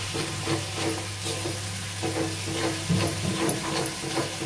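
Chili powder and spices sauté in a pan, a steady close sizzle and hiss broken by light stirring scrapes, with no talk.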